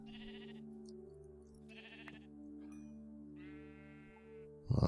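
Sheep bleating in the video game Thaumaturge, several wavering bleats one after another over a steady low hum, fairly faint and with no talking.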